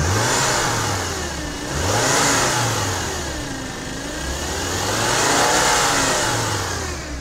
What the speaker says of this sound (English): that compressor is definitely rattling